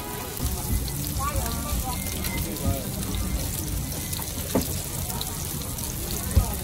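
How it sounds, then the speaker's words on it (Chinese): Batter-coated chicken breast fries in a flat pan at a street stall in the Shiqiaozi morning market in Jinzhou, a steady crackling sizzle with market bustle and a voice talking over it. "挂满面糊的鸡胸肉在平底锅里煎到两面金黄"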